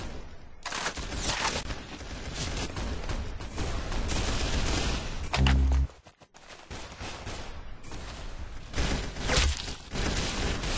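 Gunfire in a Roblox game, rapid sustained bursts of shots in dense volleys, loud and close, broken by a sharp pause and brief silence near the middle before the shooting resumes.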